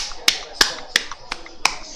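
A single person claps for a substituted footballer while watching an AFC Wimbledon versus West Ham United match, with five sharp, separate claps spaced evenly and close by, and no talking.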